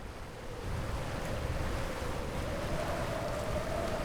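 Wind and waves rush steadily while sailing in Sailaway II, a yacht beating into nearly 20 knots of headwind and heeled hard over; a constant broadband roar of surf and gusting wind with a faint tonal whistle running through it.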